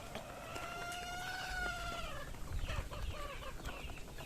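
Wild chickens on a farm cluck and make drawn-out calls nearby, with a few overlapping voices over steady outdoor background noise.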